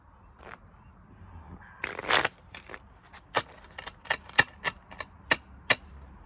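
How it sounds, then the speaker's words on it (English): Tarot cards being shuffled by hand, a brief burst of riffling followed by a run of crisp, evenly spaced card taps and snaps, close and fairly quiet. "Spirit likes extra shuffles today."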